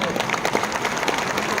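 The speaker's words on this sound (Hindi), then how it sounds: "जोरदार तालियां हो जाएं" An audience at a health talk claps in a dense, steady patter of applause, moderately loud and continuous throughout.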